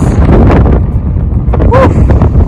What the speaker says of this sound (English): Top of Yosemite, and it's super windy here.